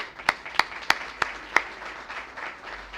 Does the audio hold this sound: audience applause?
yes